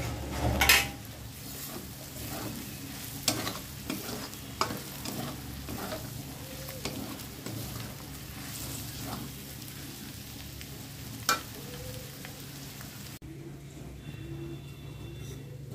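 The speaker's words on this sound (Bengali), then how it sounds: "এটা ভাজা হয়ে গেছে, এখন এর মধ্যে পনিরটা দিয়ে দেব।" Paneer frying and being stirred in a pan for prawn paneer biryani: a steady low sizzle runs throughout, broken by repeated sharp scrapes and clinks of a utensil against the pan, close and moderately loud.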